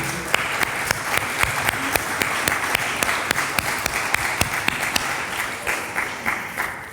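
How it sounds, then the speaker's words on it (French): Audience applause at a ceremony for International Women's Day, steady and full throughout, with a few sharper individual claps standing out above the crowd. "Je crois qu'on peut encore l'applaudir"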